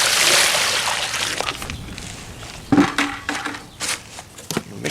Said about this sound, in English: Then we add the water.